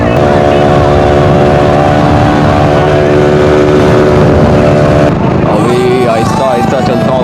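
A Bajaj Pulsar 135 motorcycle with a loud modified exhaust idles and revs with a deep, throbbing drone that shifts pitch near the end, heard up close with someone talking over it.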